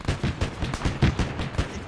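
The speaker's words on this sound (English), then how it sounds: "Sounds like a 20 mil shooting at us" Rapid 20 mm cannon fire in an Arma 3 World War II campaign set in Italy, 1943: a steady train of about a dozen loud, punchy reports roughly every tenth of a second, close by and unbroken.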